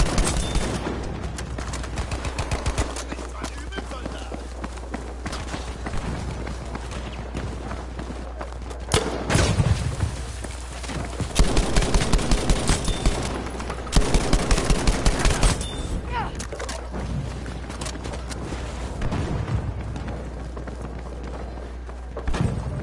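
Gunfire in Battlefield V rattles through the whole stretch, with rapid automatic bursts and single shots over a busy, noisy battlefield bed, loudest in the middle.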